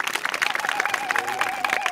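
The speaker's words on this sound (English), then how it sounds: "Shall we all clap hands for her?" A church congregation in Uganda claps for a girl, a quick, uneven patter of many hands heard from across the room, with a faint tonal hum running underneath.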